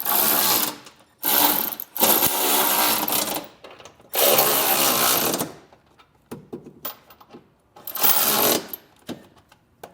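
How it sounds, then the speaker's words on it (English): Bolts on an etrailer trailer hitch receiver for a 2014 Cadillac SRX are snugged up with a 3/4 inch socket on a power tool, heard as several loud whirring mechanical bursts separated by short pauses and lighter clicks. "now we can grab a 3/4 inch socket and snug everything up"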